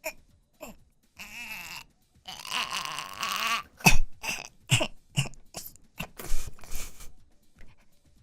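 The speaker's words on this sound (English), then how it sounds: "Keep coughing." Several coughs and hacking, throat-clearing bursts come in short, uneven fits with brief gaps between them. The coughing is loud and close, and some of the bursts are drawn out and raspy.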